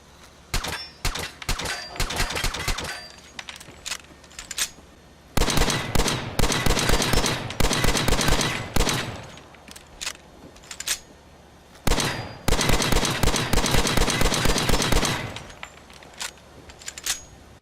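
Suppressed shots from the Bogey-7210 military 10mm pistol in Fallout 4, then louder unsuppressed ones, fired in quick semi-automatic bursts separated by short pauses.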